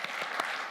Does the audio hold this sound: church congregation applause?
yes